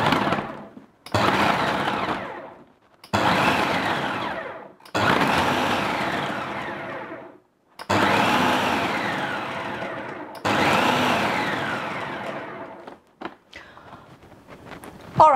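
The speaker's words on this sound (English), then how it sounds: "And we're going to add to the food processor just like the first time. And we are going to pulse it." Food processor pulsing a soaked vegan meat mixture: six loud, close bursts of motor whir, each one to two seconds long with brief gaps between, then a few light clicks.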